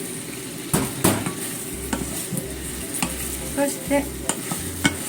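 Fried sweet potatoes tossed in syrup in a pan, with repeated scraping stir strokes, bubbling sizzle and pan clatter close by. A single brief spoken word is heard.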